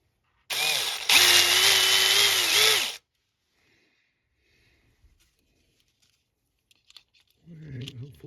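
A small power drill bores a hole through a plastic SCX Aston Martin Aramco F1 slot car body for a decoder chip: one loud, steady whirring burst of about two and a half seconds, close up, followed by faint handling noises and brief talk.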